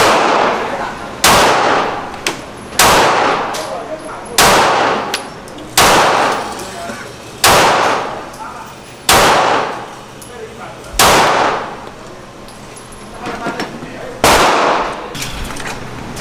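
Loud, close gunshots ring out at a shooting range, about ten sharp single reports spaced a second or two apart, each with a decaying echo, while people talk quietly between shots.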